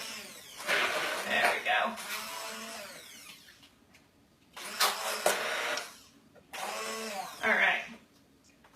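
Electric mixer whirring through butter and sweetener for paleo gingersnaps, running in three separate bursts with quiet gaps between them, while a person says a few brief words.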